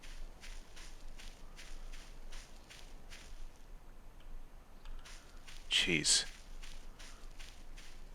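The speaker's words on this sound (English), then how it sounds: "Sound like footsteps." Even, regular footsteps in the horror video game Voices of the Void tread at a steady pace, pause briefly, then resume, with a short spoken exclamation in the middle.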